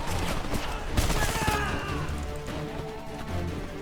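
Grenade explosion in the Homefront shooter, a loud crashing burst among scattered gunfire and battle clatter, with a voice shouting faintly underneath.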